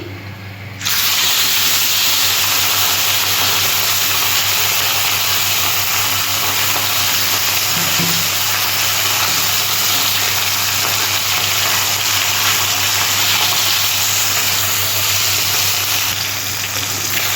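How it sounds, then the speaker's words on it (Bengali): Mourala river fish from the Ganges frying in hot oil, a loud, even, hissing sizzle that starts abruptly and holds steady for the whole stretch, close up with no voices. "তেলটা গরম হয়ে গেছে বন্ধুরা, আমি এবার মাছটা ভেজে নিচ্ছি।"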